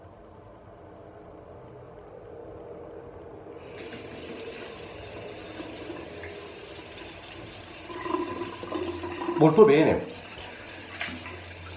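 Hot water runs from a tap during a traditional wet shave, starting as a soft stream, then splashing and gurgling louder as hands or a razor meet the flow, with a brief spoken comment early on.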